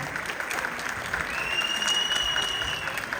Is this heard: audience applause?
yes